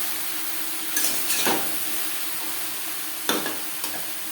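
Chopped bottle gourd frying in a pan for a vegan lau ghonto, a steady soft sizzle broken by a few brief scraping stirs of the spatula, close and fairly quiet with no talking.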